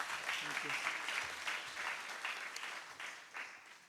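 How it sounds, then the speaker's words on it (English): An audience at a five-year birthday party event claps steadily in a hall, a dense wash of applause that fades slightly toward the end, with a few sharper individual claps standing out. "Please give a round of applause to Dr."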